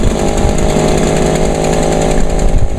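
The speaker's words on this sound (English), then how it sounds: "You can just barely hear them running because that PB400E is just so loud." An Echo PB400E backpack leaf blower runs loudly at steady full throttle, a harsh droning two-stroke engine roar with a constant high whine, close and unbroken, and no voices.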